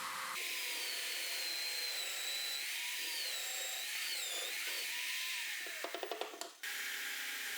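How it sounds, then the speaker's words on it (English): Steady whine of a drill fitted with a hole saw running through a workpiece, the pitch bending as it loads and eases, ending in a few quick rattling bursts before running on, close and even. "I make some holes with a drill and a hole saw"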